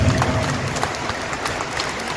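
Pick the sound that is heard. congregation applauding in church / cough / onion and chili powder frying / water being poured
congregation applauding in church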